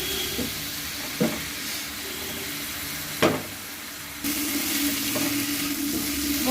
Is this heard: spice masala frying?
yes